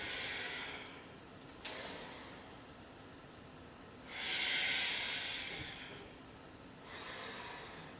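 Slow, breathy exhalations during a dynamic evening vinyasa yoga session, soft airy whooshes rising and fading in a quiet room, with no speech.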